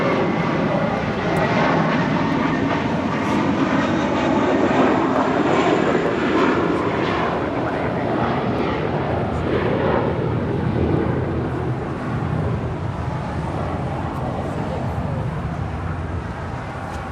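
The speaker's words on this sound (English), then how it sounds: "departing to Miami with JetBlue Airways Flight 2885 on an A321" A JetBlue Airbus A321 departing LAX on Flight 2885 to Miami, a loud, sustained jet engine roar that swells and holds steady through the takeoff run and climb, with faint wind and background noise.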